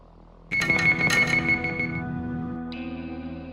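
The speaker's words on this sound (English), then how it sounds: "They sounded the alarm." A synthetic alarm in the video game Terminator Dark Fate Defiance starts abruptly, loud and buzzing with a steady tone and echoing effects, then settles into a sustained higher beep.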